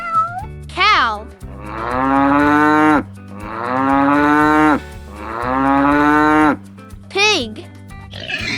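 A cow gives three long, loud, close moos in a row, set between short higher cat-like calls at the start and end, over background music.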